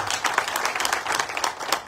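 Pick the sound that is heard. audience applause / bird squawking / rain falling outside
audience applause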